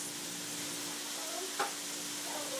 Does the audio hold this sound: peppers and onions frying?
yes